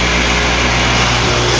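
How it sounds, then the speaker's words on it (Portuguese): Electric motor driven by a soft starter running steadily at a loud, constant whir and hum that stays unchanged throughout. "Então tá aqui nosso motor girando"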